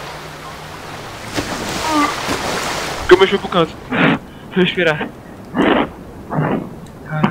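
A waterfall in the GTA V video game gives a steady broadband rush of falling water that runs through the whole stretch, while someone talks loudly over it in short, excited bursts.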